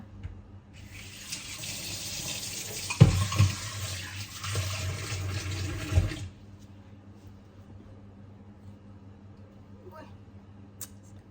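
A tap runs into a kitchen sink for a few seconds while raisins are rinsed for soaking, a close, steady rush of water that stops abruptly and is followed by quiet room sound.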